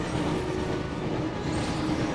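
A train in the Harry Potter and the Chamber of Secrets video game rushes close by as a dense, steady broadband roar and rumble, loud and unbroken.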